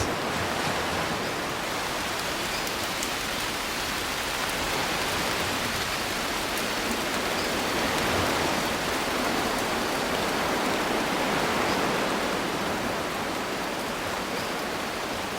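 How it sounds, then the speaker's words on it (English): Steady, dense natural noise like surf, wind and rain blending together, constant and enveloping with no pauses or voices. "I like the sound of the ocean, the wind, the rain, all those natural white noises."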